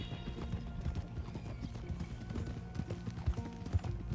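Horse hooves clip-clop at a slow walk in Red Dead Redemption 2, with irregular muffled hoof thuds over a low background bed and a faint snort, no speech.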